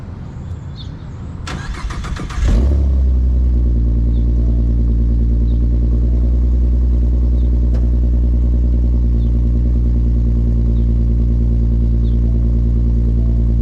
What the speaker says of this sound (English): I might as well get y'all cold start too.